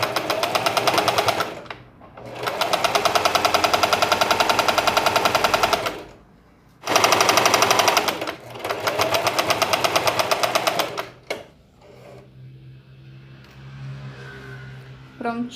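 A sewing machine stitches the hem of a fabric dish towel in long, loud, rapid mechanical bursts separated by brief pauses, then falls to quieter handling noises at the end.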